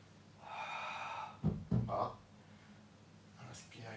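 During a Swiss ball back exercise, a person draws a sharp audible breath and then exhales, with soft close breathing sounds and faint murmuring in a quiet room.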